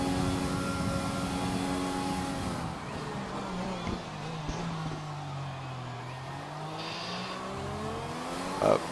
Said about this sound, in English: First you have to nail the braking zone and then try to accelerate out of it.